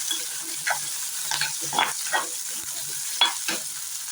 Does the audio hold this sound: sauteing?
yes